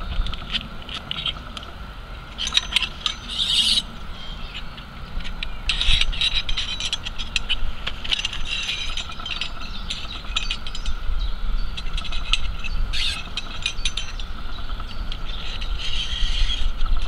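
A bushcraft saw blade rattling as the saw is taken apart, with a loose metallic clatter and scattered ticks over steady outdoor noise, close and fairly loud throughout.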